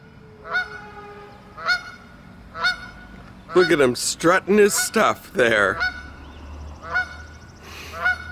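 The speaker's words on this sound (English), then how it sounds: "Mr. Goose over here has more to say than I do." Close, loud honks from a strutting goose come at a steady pace, and someone talks briefly in the middle while the honking carries on around his words.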